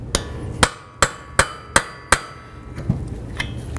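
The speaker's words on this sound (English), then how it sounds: "we'll continue on with a hammer and punch" Six sharp metallic hammer blows on a punch driving against a front wheel bearing and hub of a Dodge Journey, evenly spaced and loud, followed by a few lighter taps and clanks.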